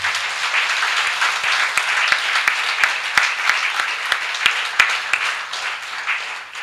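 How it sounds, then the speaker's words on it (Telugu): A church congregation applauds loudly during a Telugu Christian testimony service, a dense, steady wash of clapping lasting several seconds with a few sharper individual claps standing out. "చప్పట్లు కొట్టండి గట్టిగా"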